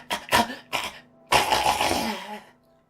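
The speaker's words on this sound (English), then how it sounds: "Those were real coughs, by the way." Several harsh coughs, a quick pair followed by a single, then a longer raspy cough fit trailing off; close and loud, no talking.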